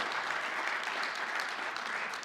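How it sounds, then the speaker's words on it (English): A church congregation applauds during a Black History Month service, an even wash of many hands clapping throughout, moderately quiet and without speech on top. "there are others in here with that round of applause"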